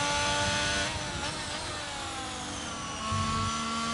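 An F1 racing car engine in the F1 22 video game at the Portugal circuit whines loudly and continuously, the pitch dipping as the car rotates through a corner and then climbing again as it accelerates.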